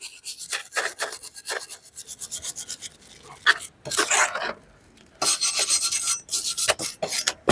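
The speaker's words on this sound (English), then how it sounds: "So if you want, just polish it all around a little bit." Repeated rasping strokes of polishing a brake caliper slide on a 2020 Nissan Pathfinder AWD rear brake, close and moderately loud, coming in short rhythmic bursts with brief pauses between.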